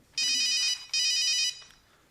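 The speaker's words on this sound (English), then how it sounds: "just as you were getting undressed, your mobile rang" A mobile phone ringtone rings twice in quick succession, each bright, shrill electronic burst lasting about half a second before cutting off.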